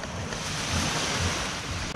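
Ocean surf at Playa Manzanillo beach in Oaxaca, Mexico, washes in as a loud, continuous roar of breaking waves mixed with wind buffeting the microphone, with no voices.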